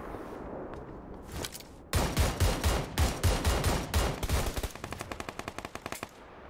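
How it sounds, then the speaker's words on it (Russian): Automatic gunfire in the video game PUBG: several rapid bursts of loud, sharp shots, first a few scattered reports, then a long heavy volley and a faster, lighter rattling string, with no talk over them. "Где-то еще стреляет, ага."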